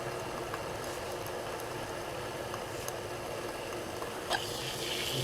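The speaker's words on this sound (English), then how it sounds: "But yeah, she's boiling." Water boiling steadily in a camping stove cook kit, a dense continuous bubbling roil that holds an even level throughout, close to the pot with no talking.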